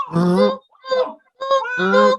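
A person imitating a Canada goose, giving three nasal honking calls with short pauses between them, loud and close.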